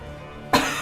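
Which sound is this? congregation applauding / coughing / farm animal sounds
coughing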